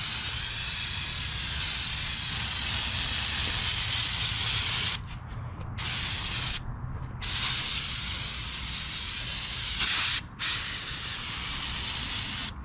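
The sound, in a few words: spraying cleaner on car engine bay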